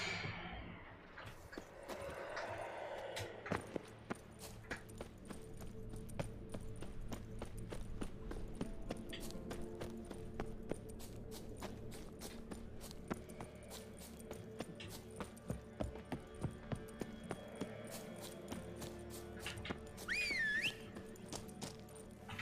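Roach, Geralt's horse in The Witcher 3 set on Skellige, galloping with steady rhythmic hoofbeats throughout, mid-distance under a constant bed of game music and ambience, with a brief whistle-like tone near the end.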